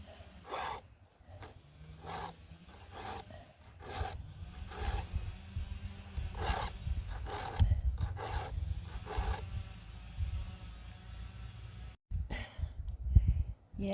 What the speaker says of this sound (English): Gotta sharpen my blades.